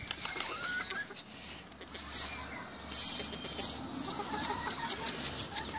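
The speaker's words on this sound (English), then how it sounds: "There are chickens." Chickens clucking outdoors, faint scattered clucks and bird calls under a hissy, noisy background with low rumble, fairly distant and continuous throughout.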